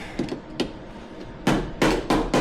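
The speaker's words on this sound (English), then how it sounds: "Might one little tap with hammer." Light hammer taps on a Nissan Micra car body panel during a home repair, several sharp metallic knocks, a couple of soft ones early and three or four firmer taps close together near the end.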